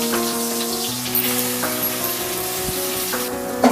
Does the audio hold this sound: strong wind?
no